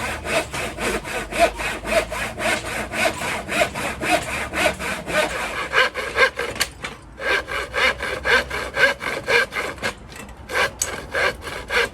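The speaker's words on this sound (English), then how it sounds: "we're going to cut out this bit in here for the wheels" A handsaw works through wood to cut out a section for wheel clearance, giving steady, loud, rhythmic back-and-forth strokes close by with a brief pause partway through.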